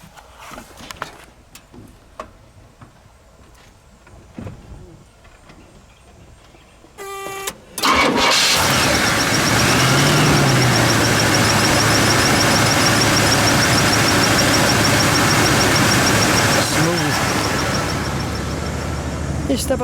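A 1975 Cadillac Fleetwood Brougham engine is cranked with a quick whirr and catches, then settles into a loud, steady, deep idle that carries on to the end. People talk quietly before it starts.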